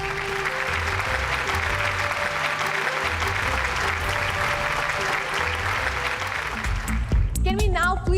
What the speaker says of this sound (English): A big round of applause for the extraordinary, most innovative business leader